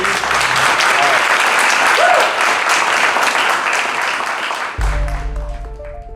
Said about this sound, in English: let me hear an applause, if you can, for who's actually going to be sailing on the water today